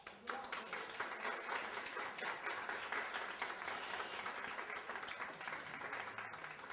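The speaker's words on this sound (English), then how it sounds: "And again, give Gary a round of applause." A lecture audience on Egypt and the Moors in Europe gives a sustained round of applause, dense and steady throughout at moderate level with no speech.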